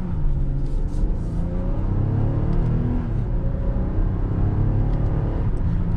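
A 2022 Nissan Pathfinder Platinum 4WD engine revs through manual gear changes on its paddle shifters, a steady close rumbling drone from inside the cabin with rising and falling pitch and no talking.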